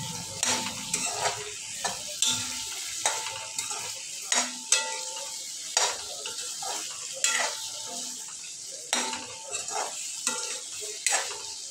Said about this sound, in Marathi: त्यात आपण आता अखंड काजू घालू आणि ते पण भाजून घेऊ